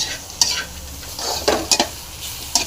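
Bitter gourd frying in oil in a pan gives a steady sizzle, broken by a few sharp scrapes and clacks of a stirring utensil. It is close and clear, with no talk.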